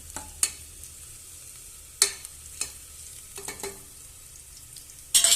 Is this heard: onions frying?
yes